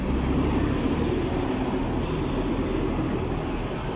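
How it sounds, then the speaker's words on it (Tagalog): Continuous city traffic roar in Kuwait with heavy bus engines rumbling nearby, a broad steady wash of vehicle noise and no talking. "Maingay ang mga bus dito."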